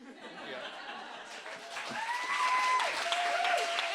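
Audience applause for a speaker at a science-talk competition final in Oxford, clapping swelling from soft to fuller with some laughter and chatter mixed in, and tonal sounds sliding through the middle.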